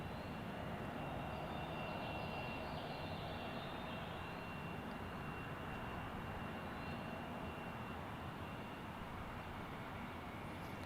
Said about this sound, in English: Next up, Frontier 2317 with an Airbus A320neo with Jack the Rabbit on its tail.